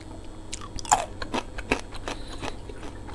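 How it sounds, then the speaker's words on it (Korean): Peanuts and other mixed nuts are bitten and chewed up close, with a few sharp crunches among softer, irregular chewing sounds and no talk. "아 오랜만에 땅콩 먹어보네요"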